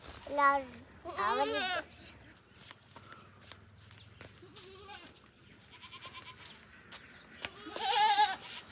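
Goats bleat in loud, wavering calls while being fed leaves beside a pond, with two bleats close together at the start and another near the end, and people talking quietly in between.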